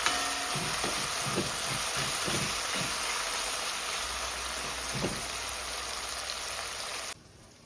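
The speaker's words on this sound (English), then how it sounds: "Combine this so that the tomato paste can fry out a little bit." Tomato paste fries in a pan with a dense, steady sizzle close by, broken by a few soft stirring knocks, before the sound drops away at the end.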